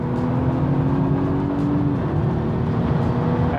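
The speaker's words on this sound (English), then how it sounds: "you can see how quickly it accelerates, at any point in time" A 2020 Volvo V60 T8 Polestar Engineered wagon accelerating, heard as a steady, loud engine and road drone from inside the cabin, with a rising tone that drops and climbs again partway through, with no talking.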